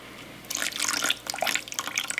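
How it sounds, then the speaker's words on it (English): Liquid thickener poured steadily into a homemade sweet and sour sauce, with a close splashing, trickling stream that starts after a brief quiet moment and carries on unevenly to the end, with no talk. "you're just going to continue pouring it all into your mixture and stir it around until it starts to thicken"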